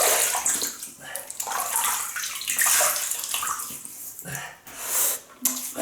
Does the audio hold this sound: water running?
yes